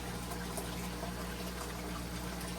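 A Hygger water change pump runs steadily while moving aquarium water, giving a constant low hum with a soft watery rush that holds level throughout, close and unbroken.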